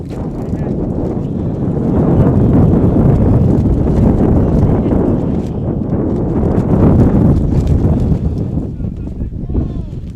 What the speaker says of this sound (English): As a massive gust of wind comes through.